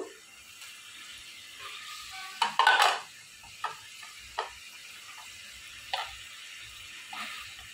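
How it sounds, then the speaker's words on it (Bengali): Shrimp tipped into a pan of bottle gourd curry and stirred, with a brief clatter of ingredients landing around the middle, then a few scattered scrapes and light utensil knocks against the pot, fairly quiet throughout. "এখন আমি দিয়ে দেব চিংড়ি মাছগুলো।"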